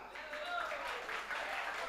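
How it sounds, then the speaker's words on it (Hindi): Hall applause at a Hindi poetry gathering (kavi sammelan) in Bareilly, a brief wash of crowd clapping at moderate level with voices heard over it. "तालियां बजाएं जोरदार।"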